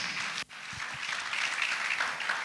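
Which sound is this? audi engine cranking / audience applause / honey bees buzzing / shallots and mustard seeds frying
audience applause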